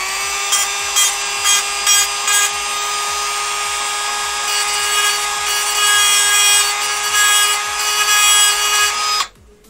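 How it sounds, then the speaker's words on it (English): A Dremel rotary tool with a grinding bit whines steadily at high pitch as it roughs up the shiny, smooth surface of a magnet, the grinding pulsing with repeated contact before cutting off abruptly near the end. "Using the right Dremel bit."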